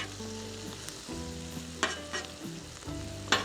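Onions and steak sizzle on a hot griddle in a steady, moderate hiss, with a few sharper spatters and pops and a low background hum underneath.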